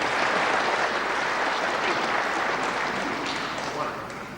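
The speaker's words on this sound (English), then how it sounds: "You can hear the hometown crowd applauding Ron's efforts" A hometown crowd applauds a player at the 1980 IBSF amateur snooker final, a close, full wash of clapping that slowly thins and fades toward the end.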